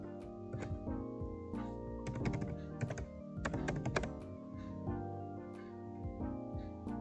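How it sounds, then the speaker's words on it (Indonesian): Fingers type an SQL query on a computer keyboard in quick, irregular bursts of close, crisp key clicks with brief pauses between runs, and no voice over it. "Lalu kita enter, lalu kita ketik left join."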